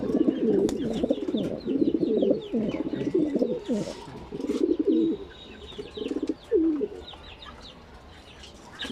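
Racing pigeons, female birds just finished eating, coo in a dense close chorus of low throaty rolls, with brief pauses and a few higher chirps.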